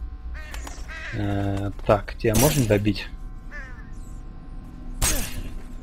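Crow caws ring out in the horror game Condemned: Criminal Origins, a few harsh harmonic calls heard amid a voice talking over the game audio.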